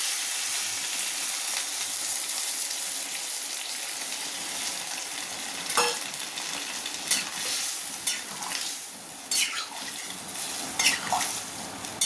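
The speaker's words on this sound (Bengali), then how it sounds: "এখন আমি এর মধ্যে দিয়ে দেবো জল।" Spiced cauliflower curry frying in a pan as water is poured in, a constant hissing sizzle broken by sharp spattering bursts and clinks of a utensil against the pan, near and without voices.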